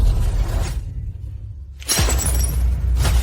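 A porcelain teacup shatters in a sharp, bright crash after a moment of near silence, with scattering fragments and a low rumble beneath, loud and close.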